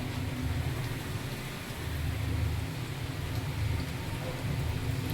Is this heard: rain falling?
yes